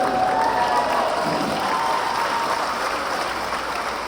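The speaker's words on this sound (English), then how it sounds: "You see how quick the crowd is going crazy with that story." A theater audience at a Steve Martin and Martin Short comedy show at Ruth Eckerd Hall in Clearwater, Florida, breaking into loud, sustained applause with some cheering, dense and continuous throughout.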